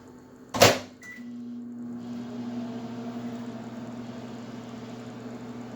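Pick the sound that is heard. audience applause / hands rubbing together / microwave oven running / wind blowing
microwave oven running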